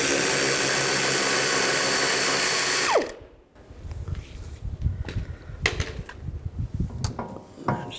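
A 13mm socket on a power tool runs loud and steady for about three seconds while loosening a front strut nut on a 2004-10 BMW X3, then cuts off, leaving scattered clicks and metallic handling rattles.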